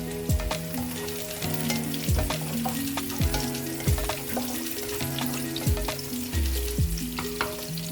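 Chopped green chili fried in oil for a vegetable dish, with a constant sizzle and repeated rhythmic scrapes of a spoon stirring the pan, close up and without talk.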